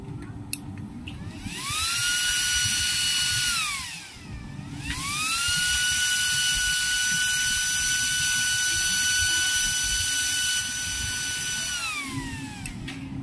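A mini blower fan for a used-oil stove runs at full speed, a loud steady high-pitched whine with a brief dip and spin-up in the middle, then winding down near the end over rumbling background noise.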